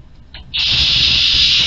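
A ghost box radio powering up: a brief faint crackle, then a sudden steady burst of loud, bright hissing static that holds without change.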